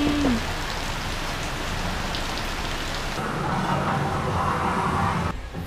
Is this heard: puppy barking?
no